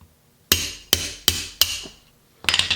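A hammer taps a socket onto a garage door roller: four sharp metallic strikes about a third of a second apart, each ringing briefly, then a quieter cluster of rattling knocks at the end.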